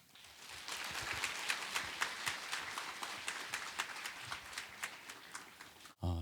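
A church congregation claps warmly to welcome a pastor, sustained applause with distinct hand claps that holds steady for several seconds before cutting off abruptly.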